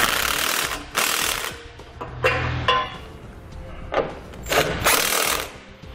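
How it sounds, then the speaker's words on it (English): A ratchet with a 14 mm socket tightens the nuts on a Curt trailer hitch under a 2017 Subaru Outback wagon, giving several loud bursts of rapid clicking separated by short pauses. "I'm going to come back with that 14 millimeter socket. I'm going to tighten up all the nuts holding everything in place."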